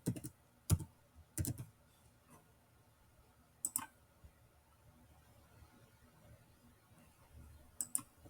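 A computer mouse clicks in short separate bursts, a few quick clicks near the start, one in the middle and a pair at the end, close and crisp with quiet between them.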